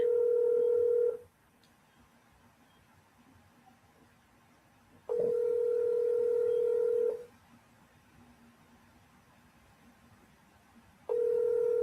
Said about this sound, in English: I'm going to try to call your phone and you can speak on the phone.